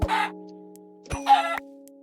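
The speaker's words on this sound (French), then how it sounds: "je crois que tu tapes une poule" Chicken in the Minecraft video game clucking when struck, two short clipped squawks about a second apart, each paired with a hit thump, over a steady low in-game tone with no talking.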